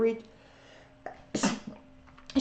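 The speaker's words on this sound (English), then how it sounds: "I have to sneeze." A single sharp sneeze bursts out close by, framed by brief soft vocal sounds just before and after.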